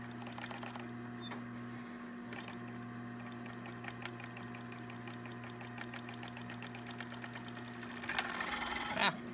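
A sewing machine stitches a shirt made from a Hudson Bay wool blanket, its needle running in a fast steady chatter over a constant motor hum, growing busier and louder in the last seconds.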